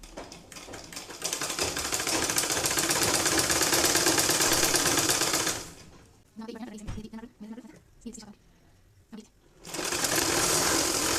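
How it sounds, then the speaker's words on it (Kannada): A sewing machine stitches fabric for a 6-12 month baby tikli hat, running in a loud continuous whir, then stopping for short stop-start bursts before running steadily again. "ಇದನ್ನು ಇಲ್ಲಿಗೆ ತಗೊಳ್ಳಿ ಮತ್ತು ಸ್ಟಿಚ್ ಹಾಕ್ತಾ ಹೋಗಿ"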